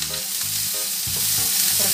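Chili and meatballs being stir-fried in a little oil, a continuous close sizzle with a few scraping stirs of a utensil, no voices.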